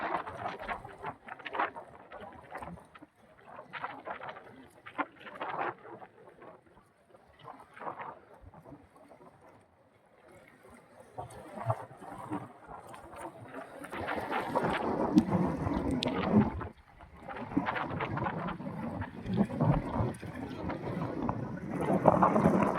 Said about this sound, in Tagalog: Ganito malakas ng hangin ay malaki pa sa dagat.